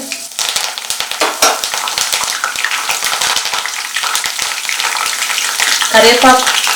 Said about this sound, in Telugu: అలాగే ఇప్పుడు కరివేపాకు కూడా వేసేసుకోవాలి.